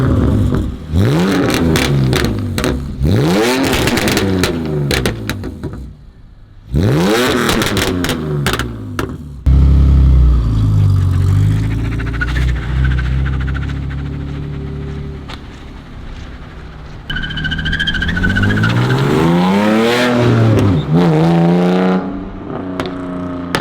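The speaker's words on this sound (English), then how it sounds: "Now we're gonna turn it off and hear the pops and bangs." Modified BMW E46 330i with an M54 engine, muffler delete and catless headers, revving loudly up and down in repeated sweeps, then idling with a deep rumble before revving again.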